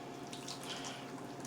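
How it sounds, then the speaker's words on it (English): Homemade vegan cheese sauce made with red peppers is poured from a blender jar in a kitchen, giving a steady close-up liquid pour with a soft gurgling wash, alone and without talk. "pour my sauce."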